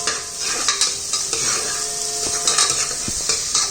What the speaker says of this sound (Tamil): இது வெங்காயம், இது தக்காளி வதங்கட்டும், அது வெங்காயம் வதங்கட்டும்.